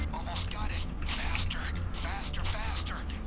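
Mechanical clanking and ratcheting from a door being opened during a PayDay 2 heist, in repeated rhythmic bursts under steady game background noise and low voices.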